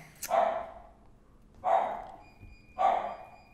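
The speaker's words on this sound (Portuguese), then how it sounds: "Só o Ida parar de latir igual um, maluco." A dog barks three times at steady intervals, moderately near and fairly loud, over a quiet indoor background.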